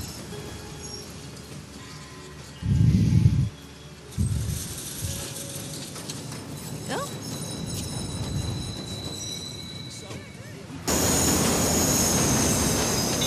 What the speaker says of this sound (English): Northbound train arriving shortly.